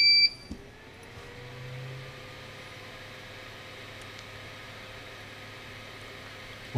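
A Creasee CS10S 3D printer switched on gives a short high electronic beep at power-up, followed by a steady, quieter tone and low machine hum.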